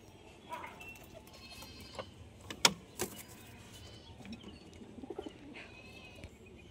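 Pigeons at a home loft coo softly in low, intermittent calls amid scattered flutters and small knocks, faint and fairly close, with quiet background noise.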